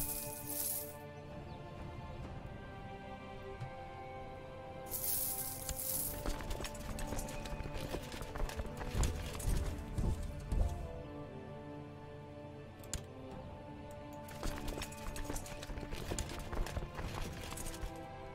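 Steady clip-clop of many hooves with occasional whinnies and metallic rattles, a busy mass of horse units moving continuously at moderate volume in the video game Crusader Kings 2.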